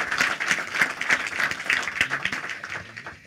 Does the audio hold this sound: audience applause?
yes